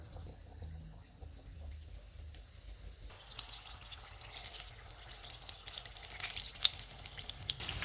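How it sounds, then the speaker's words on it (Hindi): Batter-coated egg pakora fingers hit hot oil on a medium flame; after a quiet start the oil erupts into a steady, crackling sizzle with small pops and bubbling, close and clear, with no voices. "इसे तैयार किया हुआ बैटर लगाएंगे और फ्राई कर लेंगे"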